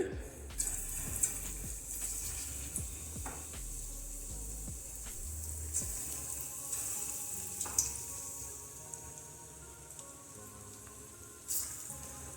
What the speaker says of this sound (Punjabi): ਹੁਣ ਆਪਾਂ ਪਨੀਰ ਨੂੰ ਤਲ ਲਵਾਂਗੇ ਆਇਲ ਗਰਮ ਹੋ ਗਿਆ ਸੀ ਹੁਣ ਇਹਦੇ ਵਿੱਚ ਆਪਾਂ ਪਨੀਰ ਪਾ ਦਵਾਂਗੇ